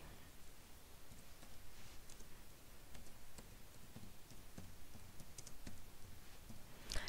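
A form name is typed on a computer keyboard: quiet, irregular key clicks over a soft hiss, faint and close, with no talking.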